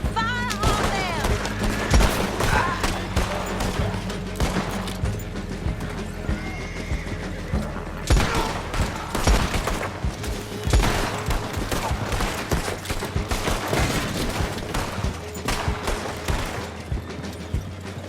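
Gunfire in a Red Dead Online shootout, rapid bursts of shots crackling over horse hooves clip-clopping and whinnies, with a voice calling out amid the fight.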